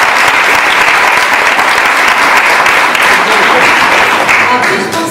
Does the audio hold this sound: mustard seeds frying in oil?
no